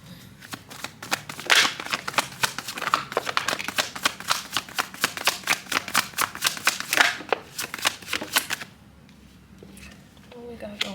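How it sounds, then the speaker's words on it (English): Tarot cards being shuffled by hand, a rapid run of crisp riffling flicks and slaps for about eight seconds, close and clear, then stopping into near quiet. "So I'm gonna do a little shuffle before we get into it."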